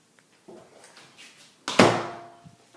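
An apartment door opens with a sharp latch click and a ringing swing that fades out, heard alone and close after a few soft handling sounds.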